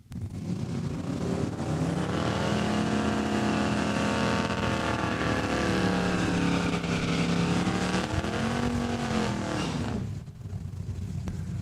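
A street-legal drag racing car in the Junior Street Legal class at Saskatchewan International Raceway roars loudly and continuously for about ten seconds, its engine note sweeping up and down before cutting off, with no talk over it.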